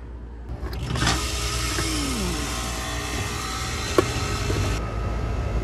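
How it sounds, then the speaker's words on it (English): A split system air conditioner's compressor runs after a bad run capacitor is replaced, giving a steady loud mechanical hum and whir that starts up in the first second and holds, with a single click near the end. "Compressor's back pumping."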